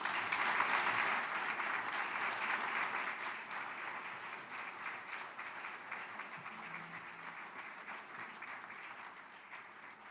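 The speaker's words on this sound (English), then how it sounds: "let's give another round of applause to an incredible 2016 Hall of Fame class" An audience at the 2016 Missouri Valley Conference Hall of Fame ceremony applauds in a sustained, dense wash of clapping that stays loud throughout and eases slightly toward the end.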